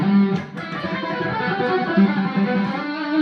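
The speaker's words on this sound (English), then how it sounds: "the next idea from the solo is this kind of wild, like open string pull-off lick" An electric guitar plays a quick open-string pull-off lick, a run of rapid ringing notes with sustained tones, close and clear, with no talk.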